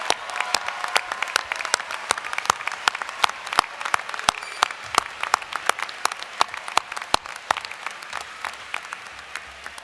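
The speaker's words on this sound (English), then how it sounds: "Please stand up, a big round of applause." Dense, steady applause from a large graduation audience at a business school commencement, many hands clapping continuously for about ten seconds with sharp individual claps standing out from the crowd wash.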